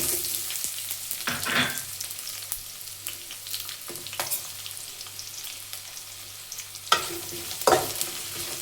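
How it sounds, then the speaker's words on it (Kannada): Chopped onions and green chillies fry in oil in a pan for a village-style chicken curry, a continuous close sizzle broken by several louder bursts of stirring and scraping. "ಇವಾಗ ಇಷ್ಟು ಕಲರ್ ಚೇಂಜ್ ಆಗೋವರೆಗೂ ಪೂರ ಫ್ರೈ ಮಾಡ್ಕೋಬೇಕು."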